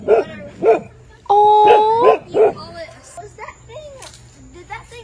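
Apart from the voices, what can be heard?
dog barking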